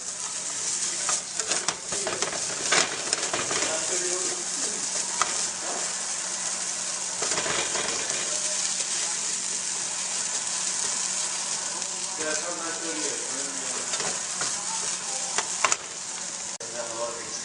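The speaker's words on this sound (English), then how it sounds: "We're just going to fry this about 5 to 10 minutes, just so that we can see that it's getting crispy from the outside" A vegetarian egg skillet with cheese frying in a pan, crisping over several minutes: loud, dense, continuous sizzle close by with occasional clicks and brief stir sounds, no talking.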